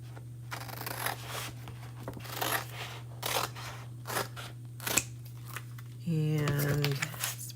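Scissors snip through paper in a series of close, crisp cuts with short pauses between, while a person speaks briefly near the end.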